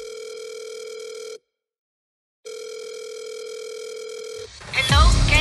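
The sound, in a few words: cellphone call tone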